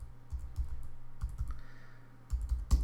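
Someone types a web address on a computer keyboard: a short run of quick, close key clicks in uneven bursts, with a brief pause before a final few presses.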